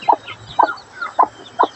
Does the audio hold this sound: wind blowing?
no